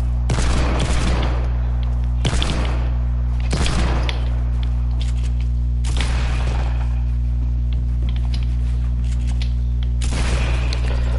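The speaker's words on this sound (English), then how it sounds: "He's using a shotgun instead" Shotgun fire in the Fortnite video game, with repeated heavy blasts about every two seconds over a loud, constant low hum, up close.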